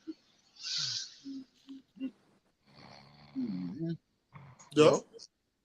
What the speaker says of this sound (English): I hear someone snoring